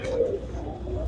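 A white-eyed pigeon in a loft gives a short, soft, low coo, heard close and alone.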